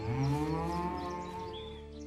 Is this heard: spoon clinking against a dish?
no